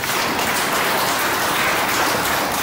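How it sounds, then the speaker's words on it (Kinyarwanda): A church congregation at a Pentecostal worship service applauds loudly and continuously, a dense, steady wash of clapping that fills the whole clip with no break and no voices. "Dukomere Yesu amashyi cyane."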